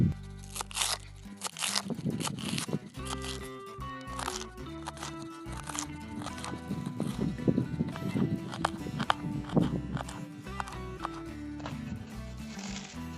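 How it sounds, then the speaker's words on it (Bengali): A knife chops through a head of cabbage in a village kitchen, giving repeated crunchy cuts at an uneven rhythm, close and moderately loud, with some background noise. "দেখুন বাঁধাকপিটা আমাদের মোটামুটি কাটা হয়ে গেছে।"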